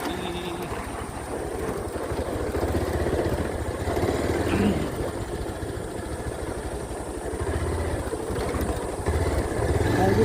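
A motorcycle engine runs steadily and loudly throughout as the bike rides slowly along a rough, hazardous hill road on the way to a fair at Gorusinge, with continuous rumble and some bumpy variation.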